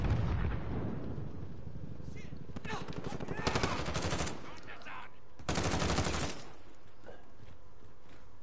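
Bursts of gunfire from a PS4 first-person shooter, with loud sustained volleys a few seconds apart over a constant rumbling background, and players talking in the mix.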